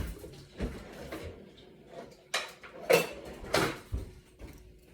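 A spatula works through marshmallow chocolate chip cookie dough in a bowl, making a series of close, uneven thuds and scrapes as the dough is folded and pressed against the sides.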